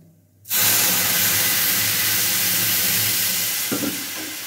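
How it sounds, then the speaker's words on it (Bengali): Milk poured into hot fried semolina in a pan sets off a sudden loud sizzle and steamy hiss that starts abruptly and holds steady, with a faint stir clink near the end. "এবার এর মধ্যে আমি দিয়ে দিচ্ছি 1 কাপ দুধ।"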